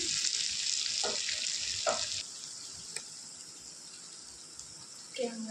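Bitter gourd and potato pieces fry in a pan until reddish, a continuous bright sizzle broken by a few soft knocks and clinks.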